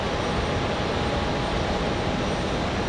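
A Breeze Airways airliner arriving at Raleigh-Durham airport on a windy day gives a steady, broad jet roar that stays loud and even throughout, with no voices.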